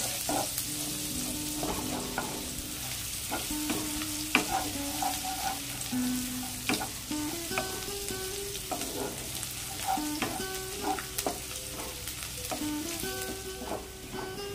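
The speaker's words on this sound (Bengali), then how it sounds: "রসুনটাকে খুব ভালোভাবে ভেজে নেব" Garlic cloves, about 20 to 25 from one large bulb, fry in hot oil until reddish, with a steady close sizzle and intermittent clinks and scrapes of a spatula against the pan.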